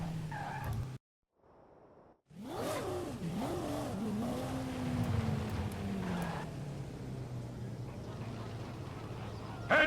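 A Lamborghini Murcielago engine in a racing video game revs and roars loudly and steadily, rising and falling in pitch, with tire squeal and skidding along the way. There is a brief silent gap near the start.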